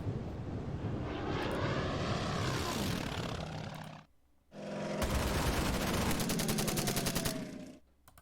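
Aircraft engines drone in a World War II naval strategy game, a broad roaring sweep that swells, drops out briefly, then returns loud and steady.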